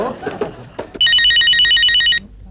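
An electronic phone ring trills loudly in a steady pulsing burst after a moment of talking and background noise.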